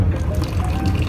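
Hot water pours steadily from the urn at the end of a train carriage, a continuous close liquid rush with a low rumble of the moving train underneath.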